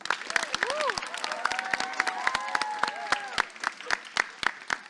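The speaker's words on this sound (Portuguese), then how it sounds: "Então nós vamos aplaudir todo mundo agora." Scattered, crisp handclaps from a small audience at a poetry podcast recording, with voices calling out and ringing over the uneven clapping.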